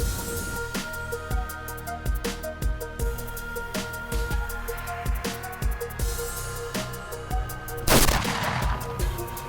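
A hunting gunshot: one loud, broad blast stands out near the end over a busy background of repeated sharp clicks and tones, no talking.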